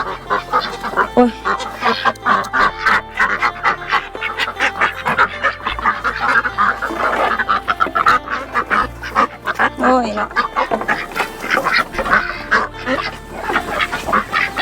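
A flock of ducks quacks and honks constantly, dense and overlapping at close range, while a person speaks briefly over the noise.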